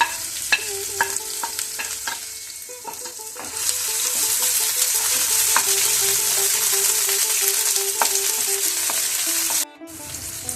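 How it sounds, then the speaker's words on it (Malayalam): Ginger, garlic, shallots, green chillies and curry leaves fry in hot coconut oil with a loud, steady sizzle and some sharp crackles and pops. The frying grows fuller partway through and drops off briefly near the end. "എണ്ണ ചൂടാകുമ്പോൾ നമുക്ക് ഇഞ്ചി, വെളുത്തുള്ളി, ചുവന്നുള്ളി, പച്ചമുളക്, കറിവേപ്പില,"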